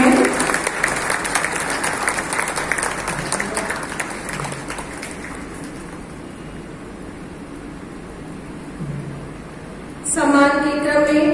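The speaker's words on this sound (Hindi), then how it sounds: "आप सभी से अनुरोध है कि जोरदार तालियां बजाती रहें।" Loud applause from an audience at a press club swearing-in ceremony in Gorakhpur fills most of the stretch, then fades down, and a burst of music or cheering breaks in near the end.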